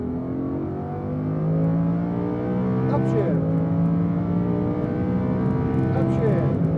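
A Lamborghini Huracan accelerates at full power on a track, its engine note rising steadily with a brief dip at a gear change, heard from outside the car under a continuous roar.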